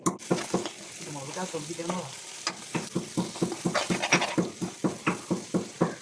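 Onions fry in a pan for a clam-meat fry, with sharp rhythmic scraping stir strokes repeating over a soft sizzle and a brief voice early on.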